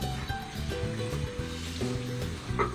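Prawns cooking in a pan, a steady close sizzle with a faint bubbling hiss and no clear break.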